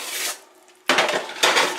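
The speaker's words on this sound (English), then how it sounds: "I'm just switching my pans around right now." Metal cooking pans in a home kitchen clank and scrape as they are shifted on the stovetop, in two loud, close clattering bursts.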